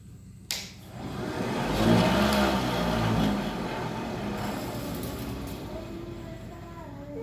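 A cotton candy machine with a copper heater is switched on for a test run. A sharp click starts the motor, which spins up to a loud, steady mechanical whirring hum that runs on close by.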